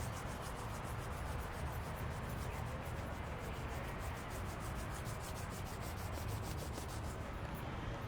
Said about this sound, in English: Interlacing all the fingers and rubbing the palms side to side, providing a little gentle pressure.